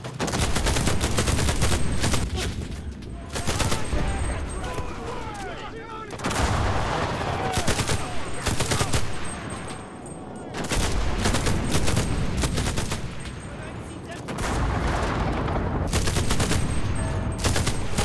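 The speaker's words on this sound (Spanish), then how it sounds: "Vamos a entrar por el flanco otra vez. Pero ahora con la ametralladora." Machine gun and submachine gun fire in the war shooter Enlisted crackles in loud, dense bursts that last a few seconds each, with short quieter gaps between them.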